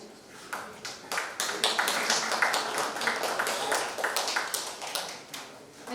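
A conference audience at a CSR partnership event claps in a steady round of applause, many hands close and loud, sustained for several seconds.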